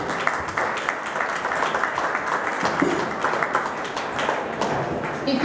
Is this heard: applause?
yes